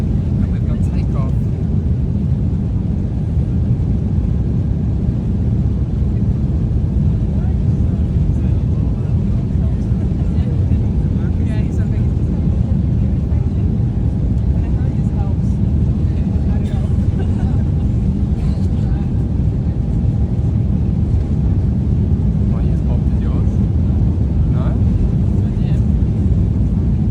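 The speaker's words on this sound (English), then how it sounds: "And we've got takeoff." Airliner taking off from Amsterdam Schiphol Airport, heard from inside the cabin as a steady, loud low engine roar and rumble throughout, with faint murmurs of talk beneath.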